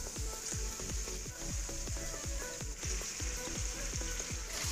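Cleaned chicken sizzles loudly in a pan with ginger garlic paste and turmeric, a continuous fry broken by quick, evenly spaced popping bursts.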